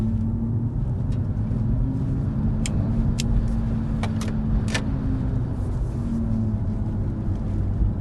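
A steady, low synthetic hum from an Audi e-tron GT's artificial sport driving sound, with a sustained tone rising and falling slightly, plus a few faint clicks; no talking.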